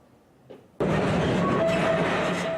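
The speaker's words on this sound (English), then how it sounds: "Just riding this train hundreds of meters underground is scary in itself" Mine train riding hundreds of meters underground in a Ukrainian coal mine: a loud, steady rumbling rattle with rail clatter kicks in abruptly after a brief quiet moment, with a faint squeal rising over the ride.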